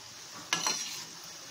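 Leftover-rice pakoda being turned over in hot frying oil, a brief scraping stir over a steady hiss of sizzling, close and fairly quiet, with no voices.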